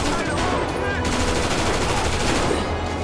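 Rapid gunfire in GTA 5 rattles steadily in a dense, loud fusillade for about three seconds, shots overlapping with no pause.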